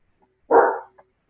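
A single loud dog bark close by, one short burst followed by a faint small yip, with quiet around it.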